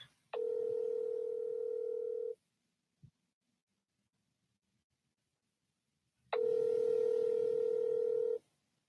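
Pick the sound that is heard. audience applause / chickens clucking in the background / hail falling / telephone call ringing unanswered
telephone call ringing unanswered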